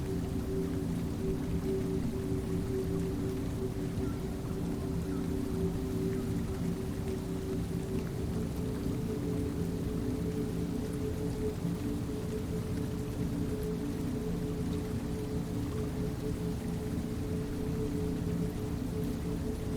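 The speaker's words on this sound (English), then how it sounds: "The rain on the leaves is a sound you've known your whole life." Steady rain patters continuously on foliage, a dense, even hiss with a low rumble underneath, unbroken throughout.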